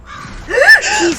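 A loud, harsh crow caw rings out from nearby, a single raspy bird call lasting under a second amid quieter background noise.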